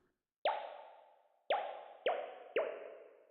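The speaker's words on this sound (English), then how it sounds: "Oh, just bubbles." A synthesized bubbles preset on a virtual instrument gives four bubbly plops, the first after a short pause and the rest close together, each with a sharp onset that rings and decays, alone with no talking.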